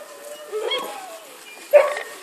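Alaskan huskies at a sled dog farm near Chena Hot Springs in Fairbanks give short, high yips and whimpers in two quick bursts, fairly close, over outdoor background noise.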